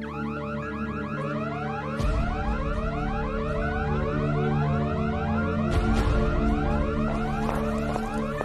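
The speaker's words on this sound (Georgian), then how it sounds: "სიგნალიზაცია ჩაერთო" A car alarm goes off inside a house, a loud electronic wail of rising sweeps and warbling tones that keeps cycling without pause.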